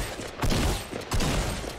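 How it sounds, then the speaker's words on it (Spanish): Shotgun fire in the video game Fortnite during a shotgun-only battle royale match: two loud, booming blasts roughly half a second apart over dense game noise. "escopeta contra escopeta"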